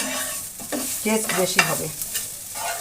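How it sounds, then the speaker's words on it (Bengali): Grated radish fries and is stirred in a pan for a sweet sandesh, soft scraping strokes and a light sizzle close by, with someone speaking briefly over it. "এটা একটু সময় নিয়ে ভালো করে ভেজে নিতে হবে।"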